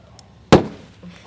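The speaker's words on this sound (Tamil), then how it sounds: "நல்ல வேலை வெடிச்சிருச்சு, ஆனால் வந்து பார்த்தீங்கன்னா அது கொட்டலை." A homemade ball filled with vinegar and carbon dioxide bursts with one sharp, loud pop partway through, after quiet background, leaving a short fading tail.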